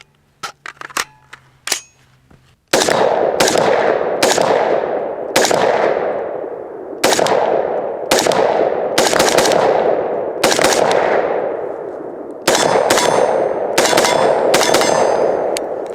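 Muddy, burnt-up AR-15 rifle firing a series of loud, close shots with sharp metallic cracks and ringing decay, in bursts of single and rapid shots after a few quieter clicks and handling noises at the start.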